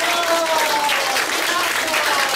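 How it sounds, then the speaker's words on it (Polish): An audience claps loudly and steadily after a children's play of Little Red Riding Hood, dense close applause filling the whole moment with voices mixed in. "Teraz wy nam bicie brawo."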